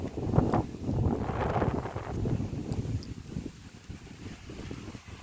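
Wind sweeping across an open cotton field after rain, buffeting the microphone in rumbling gusts that swell and ease, strongest early and gradually calming.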